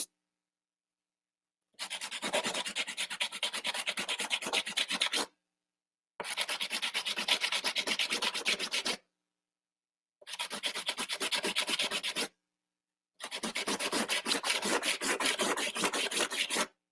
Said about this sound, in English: think the sandpaper that's supposed to work really quickly is kind of helping out